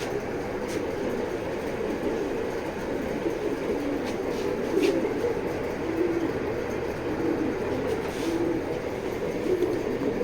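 Pigeons at a breeder's loft, short-tailed racing birds, cooing in low repeated murmurs under a steady droning rumble, with faint higher chirps scattered throughout.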